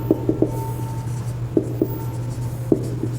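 Chalk or marker writing on a board during a physics lesson: close, light taps and short scratchy strokes come in small clusters over a steady low hum.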